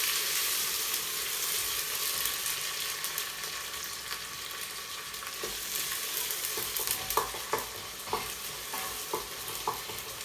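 Frozen garlic and ginger with onion sizzle in hot oil inside a pressure cooker, a continuous bright hiss broken by occasional stirring scrapes and clinks toward the end.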